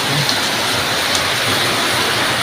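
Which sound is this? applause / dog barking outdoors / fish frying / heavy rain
heavy rain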